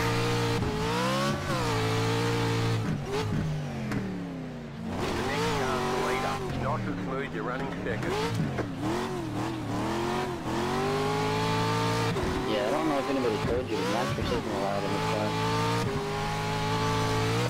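Race car engine from the iRacing sim, a Lucas Oil Pro 4 truck at Wild West, revving and droning loudly and continuously with rising and falling pitch, under a person talking.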